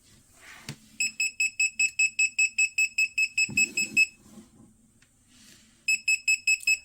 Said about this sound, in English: non-contact voltage detector. This will wiggle a bit.